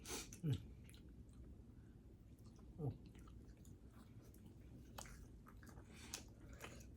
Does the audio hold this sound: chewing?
yes